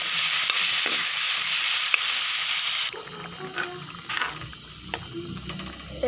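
Boiled potatoes sizzle loudly as they hit hot spiced oil in a pan for an Assamese kochu curry, then the hiss drops and a spoon scrapes and stirs with intermittent clinks, no talking.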